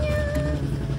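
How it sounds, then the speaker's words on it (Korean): A cat gives one drawn-out, close meow outdoors in the Swiss village of Grindelwald at dusk. "고양이."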